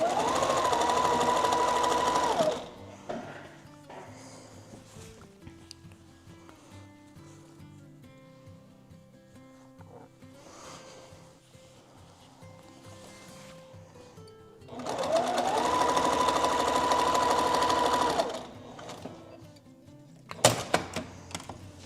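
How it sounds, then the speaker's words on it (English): Sewing machine stitching quilt strip pieces together for a flag quilt, with two loud sustained runs of rapid stitching at the start and near the end, separated by quieter handling and fabric shuffling. "I'm just going to take these pieces now and sew them to their friends"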